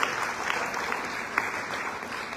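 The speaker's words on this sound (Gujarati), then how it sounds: "જોરદાર તાળીઓથી એમને વધાવી લઈએ." An audience at a Navratri celebration in Vadodara claps steadily in dense, continuous applause, loud and close, with no pauses throughout.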